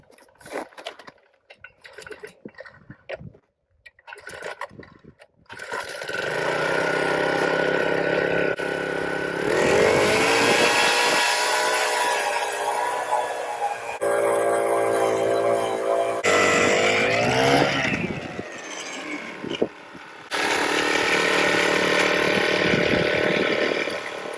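A propane ice auger pull-starts after a few quiet moments, then runs loud and steady with rising and falling revs as it drills through thick lake ice, with brief pauses between bursts.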